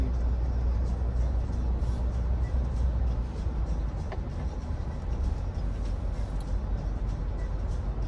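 A car drives along a wide road, giving a steady low rumble of engine and tire noise with wind, heard from inside the car at a constant, fairly loud level.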